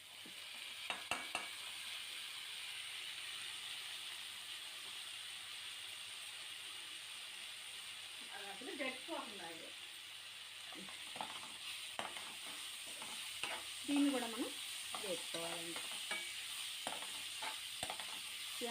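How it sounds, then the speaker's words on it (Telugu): Moong dal and amaranth leaves fry in a pan, giving a soft, steady sizzle with occasional scrapes and stirring sounds from a utensil, heard quietly and close. "వేగుతూ ఉంది కదండి ఇది వేగుతున్నప్పుడు మనం పెసరపప్పు కూడా వేసేసుకుందాం"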